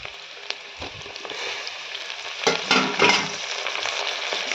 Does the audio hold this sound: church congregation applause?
no